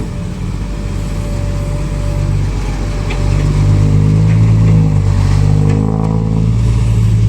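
A heavy dump truck engine rumbles loudly nearby, its revs rising and holding as the truck reverses slowly at a pond dredging site.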